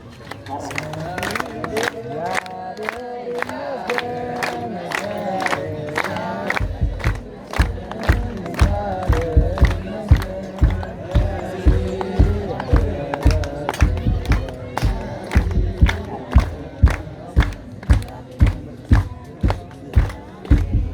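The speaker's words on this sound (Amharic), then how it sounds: "እልል እያላችሁ በአክብሮት ትቀበሉልናላችሁ።" Crowd at an Ethiopian Orthodox wedding, voices rising in loud festive ululation together with rhythmic clapping that sharpens into a strong regular beat partway through.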